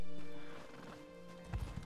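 Horse in The Elder Scrolls Online, with a neigh and hoofbeats that rise sharply near the end over steady ambient game music.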